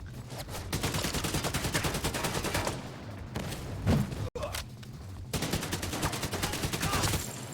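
Light machine gun fire from The Division 2 rattles in long, rapid bursts, with a brief pause and a sharp break midway before the firing resumes, at moderate loudness.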